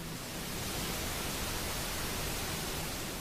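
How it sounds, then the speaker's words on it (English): Steady broadband pink noise, a smooth continuous hiss that holds at an even, moderate level for the whole stretch with no breaks or voices. "We give short pulses of pink noise at specific times during the slow waves."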